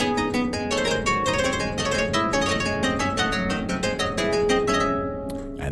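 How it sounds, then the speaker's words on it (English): Keyboard performance of a revised passage from Bach's third Partita, busy with swirling sixteenth-note runs over bass notes, played steadily and close for several seconds before a final held chord. "he keeps again the swirly 16th notes coming in"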